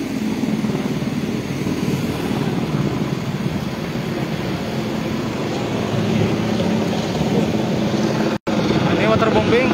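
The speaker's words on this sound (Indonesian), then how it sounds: "Ini waterbombing kembali terlihat untuk memadamkan api." Water-bombing helicopter flying over a burning landfill at TPA Sarimukti, a loud steady rotor and engine drone that continues throughout, with a brief dropout near the end.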